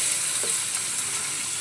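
Paneer pieces frying in a pan give off a steady, close sizzle with a bright hiss, with no speech over it.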